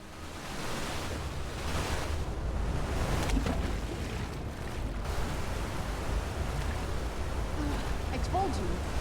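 A waterfall in the video game Skyrim roars as a constant broad rush of churning water, loud and close throughout, with a brief voice near the end.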